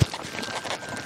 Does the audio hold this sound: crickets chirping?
no